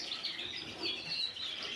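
Caged pet canaries chirp and twitter continuously, a busy high-pitched chorus at moderate volume.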